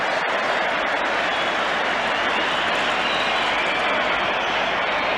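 A large football stadium crowd at an England versus Northern Ireland European Championship qualifier roars and applauds, a dense, sustained wash of cheering with no break.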